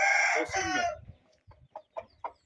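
A chicken gives a loud crowing call up close, followed by several short, soft clucks spaced apart.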